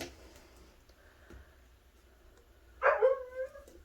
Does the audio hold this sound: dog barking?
yes